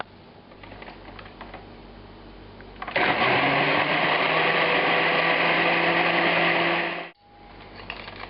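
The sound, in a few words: blender blending tomato sauce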